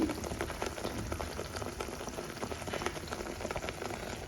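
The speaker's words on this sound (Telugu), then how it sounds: "సో ఇది బాగా ఉడకలా ఉడకడానికి ఒక టెన్ మినిట్స్ పడుతుంది" A spinach dish boils steadily in a pot, giving a dense, continuous bubbling hiss that stays close and even throughout, with no voices.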